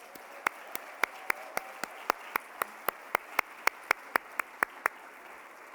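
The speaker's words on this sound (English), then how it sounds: "One more round of applause." Slow, regular claps from a conference general session audience ring out one at a time, about four per second, crisp and fairly quiet over a hushed room.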